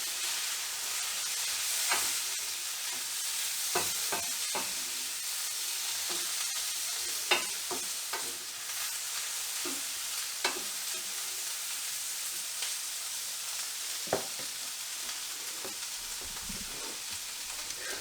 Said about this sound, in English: And give that a stir through.